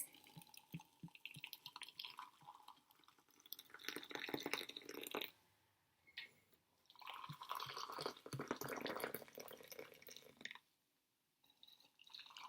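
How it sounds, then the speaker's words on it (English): Hot water poured over Earl Grey and black tea bags in mugs, heard as quiet trickling and splashing in two separate pours with short pauses between. "So we're going to pour our water over these."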